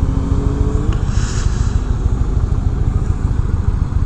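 A 2019 Indian Chief Dark Horse motorcycle being ridden, its engine a loud continuous low throbbing rumble close by, with a brief rising whine early on and no voices.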